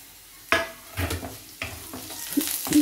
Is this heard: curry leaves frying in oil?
yes